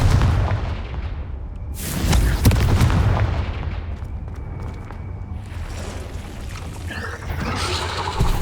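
Confringo fire spell in Hogwarts Legacy blasts with booming explosive bursts, a sharp loud impact followed by rumbling decay and further crackling blasts in a game setting.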